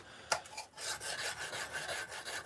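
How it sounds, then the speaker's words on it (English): A steel chisel being sharpened in a stone-carving workshop, with repeated rhythmic rasping strokes against a sharpening surface after a sharp initial tap, close and steady, no talk. "I'm going to sharpen my chisel one more time."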